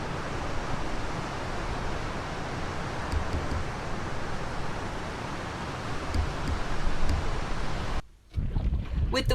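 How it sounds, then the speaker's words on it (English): A small sailboat sailing on Barnegat Bay, with steady wind rushing over the microphone and waves washing against the hull in a continuous, full noise that drops out briefly near the end. "we'll leave you all to enjoy some pure sailing footage"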